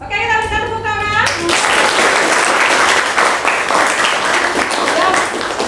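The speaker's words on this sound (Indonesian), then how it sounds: "Oke, kita berikan tepuk tangan." A classroom at a vocational arts school in Ubud breaks into loud, sustained applause after a group presentation, following a brief voice at the start.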